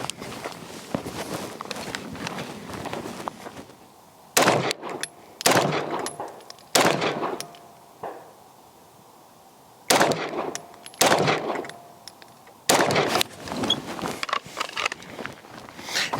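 A Staccato pistol fitted with a Parker Mountain Machine compensator fires loud, close, sharp shots in spaced clusters, with short quieter pauses between strings and no talking.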